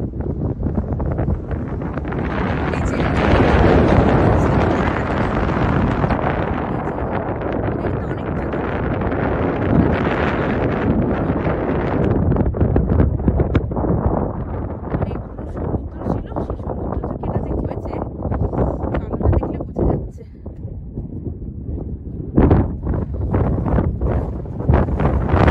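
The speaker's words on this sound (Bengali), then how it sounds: "আর এত হাওয়া দিচ্ছে, ওরে বাবা মনে হচ্ছে উড়েই যাব।" Strong wind buffets the microphone at a rocky desert viewpoint, roaring loudly and continuously with gusting surges, while a person talks over it.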